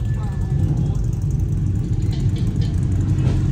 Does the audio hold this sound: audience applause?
no